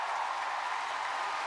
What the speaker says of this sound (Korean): 관객석에서 박수치고 일어나서 같이 따라 부르고.